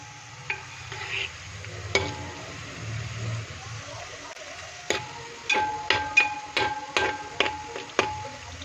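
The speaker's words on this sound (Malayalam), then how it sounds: "വെളിച്ചെണ്ണയിലേക്ക് ഇട്ടിട്ടുണ്ട് കേട്ടോ. ഇത് നന്നായി ഒന്ന് മൂത്ത് വരട്ടെ" Jackfruit chips fry in coconut oil with a low sizzle, broken by a series of sharp metallic knocks and scrapes from stirring in the pan.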